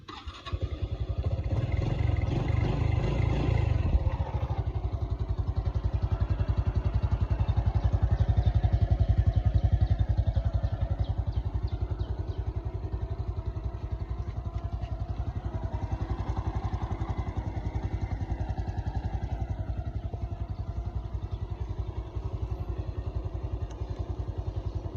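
Shiny yellow motorcycle, a 1968 model, fires up with a brief rough burst and settles into a steady, loud, close idle that keeps running throughout, no talk over it.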